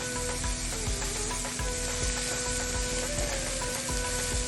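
Onion and capsicum with dried fenugreek leaves sizzle and crackle steadily in a hot pan while a soya vegetable dish is cooked, a dense close frying hiss with faint stirring clicks and a low background hum.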